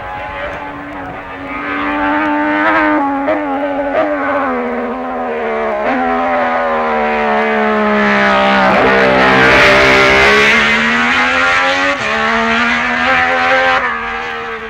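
Racing motorcycles at Signpost corner during the 1966 Isle of Man Senior TT, including Giacomo Agostini on a record lap, blare past in a loud, sustained engine howl with rising and falling pitch as they close in and pull away.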